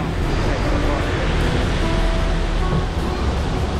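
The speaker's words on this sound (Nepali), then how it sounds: "पानी चाहिँ माथिबाट निकै नै पर्न थाल्यो क्या" Heavy rain pours down from above near the Koshi Barrage, a loud, dense, unbroken rush of noise that fills the whole scene without letting up.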